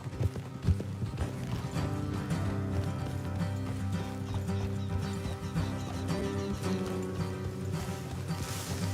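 Horse hooves clip-clop steadily over a busy, dense game soundscape with a rumbling low backdrop, no voices, continuous throughout.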